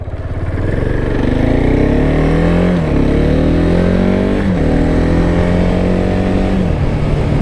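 A KTM Duke 690 single-cylinder motorcycle being ridden, its engine loud and close with a throbbing drone that climbs in pitch through gears, with two brief dips at shifts.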